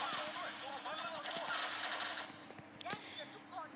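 Rapid bursts of gunfire in Headshot, a co-op video game, crackle continuously, with a voice talking over the shooting throughout.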